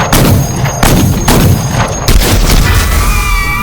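Handheld autocannon pounding out heavy, booming rounds in a game-show combat arena, about four loud thumping blasts in quick succession with a ringing tone between shots, very near and loud.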